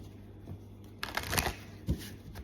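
Romance angel oracle cards are shuffled close by, a soft riffling flutter with a couple of brief slaps as the deck is handled, quiet over faint background hum.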